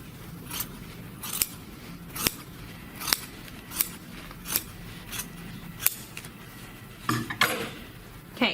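Scissors snipping a denim seam allowance for a flat-felled seam, a steady series of about a dozen crisp close cuts at roughly one-second intervals with no talking.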